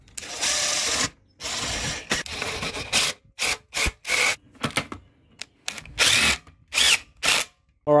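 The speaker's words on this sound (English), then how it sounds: "let's go ahead and put this lid on the gasket and get her tightened down." A power drill tightens down the gasketed lid of a pyrolysis reactor. It runs in repeated loud, close bursts of whirring, with short pauses between them.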